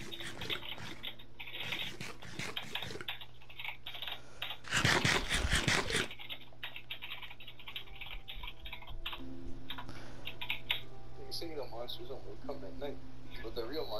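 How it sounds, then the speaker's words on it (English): Computer keyboard typing during a Minecraft session, a fast run of small clicks under chatty voices and game sounds, with a louder burst of noise partway through. "This guy's typing a novel."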